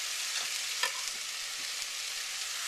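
Garlic cloves sizzling in a pan, a steady bright frying crackle with a few soft stirring taps, close and without talk.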